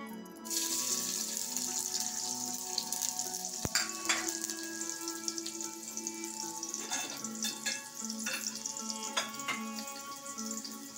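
Onion dropped into hot oil for a Malvani-style tempering sizzles and crackles steadily, with a sharp clatter near the start and scattered pops and spatters over a continuous frying hiss, close and fairly quiet.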